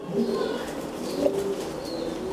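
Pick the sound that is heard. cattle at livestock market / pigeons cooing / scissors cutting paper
pigeons cooing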